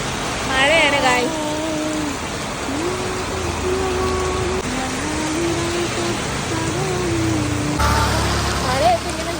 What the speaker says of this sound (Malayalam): മഴയൊക്കെ ഇങ്ങനെ നിൽക്കുകയാണ്, ഇങ്ങനെ മഴ.